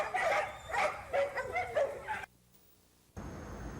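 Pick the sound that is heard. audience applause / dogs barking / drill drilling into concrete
dogs barking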